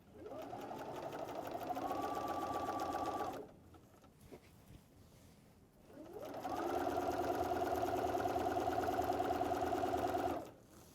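A sewing machine stitches a quilted wall calendar with Velcro, running steadily for about three seconds, stopping briefly, then resuming in a longer, even run that cuts off near the end.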